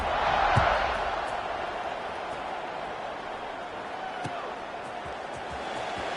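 A football stadium crowd before a kickoff, a broad steady roar and murmur with occasional thumps, swelling briefly at the start, and a commentator's voice over it.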